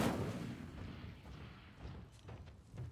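The Incendio fire spell in Hogwarts Legacy erupts as a loud, rumbling blast that dies away into a low, rolling roar with scattered crackles.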